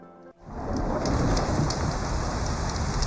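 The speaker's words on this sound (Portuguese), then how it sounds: "Nossa, tá chovendo." Heavy steady rain pours down in the Horizon Zero Dawn video game, loud and close after a brief quiet moment, with a low rumble of thunder running underneath the downpour and no voices.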